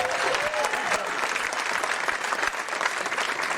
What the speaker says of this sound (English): Let's give Johnny a tremendous round of applause.